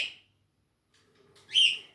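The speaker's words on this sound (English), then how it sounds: "Let me go get the birds so they can calm down." Pet parrots in their cages give two brief, sharp calls: one at the very start and a louder one near the end, with near silence between.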